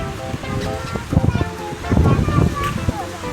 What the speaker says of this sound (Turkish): Çok da rüzgar esiyor ama değil mi?